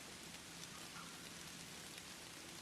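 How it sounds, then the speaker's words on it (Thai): Steady rain hisses in the Sakura School Simulator video game, a soft, even wash of falling drops that continues without a break and with no voices. "ฝนมันตก"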